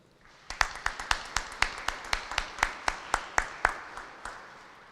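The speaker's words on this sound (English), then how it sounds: "Please join me in a round of applause for all of our distinguished visitors." Clapping at a military change of command ceremony comes as a steady, evenly spaced run of about fifteen sharp, distinct claps lasting several seconds.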